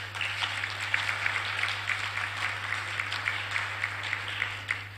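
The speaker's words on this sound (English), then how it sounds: "So let's give a round of applause to the gentleman who helped us go through this." An audience at a landfill-to-landmark conference applauds a speaker, a soft, steady patter of clapping heard from some distance over a constant low electrical hum, without speech.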